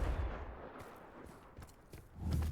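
Confringo fire spell cast in Hogwarts Legacy, heard as a low booming blast that opens the moment, fades through a rumbling stretch, and swells again into another heavy burst near the end.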